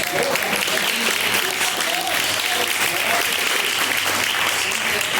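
Steady, dense applause from a church congregation at a live service, filling the space loudly and evenly throughout with a murmur of voices mixed in.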